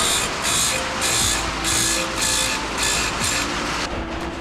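Stihl MS362 chainsaw chain being sharpened with a file, giving steady rhythmic rasping strokes in repeated bursts, loud and close with no talk.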